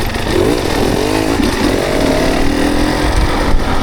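A dirt bike engine runs steadily and loud up close at Carnegie SVRA, a continuous buzzing drone with rising and falling revs throughout, no voices over it.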